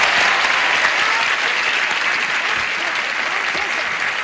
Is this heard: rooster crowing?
no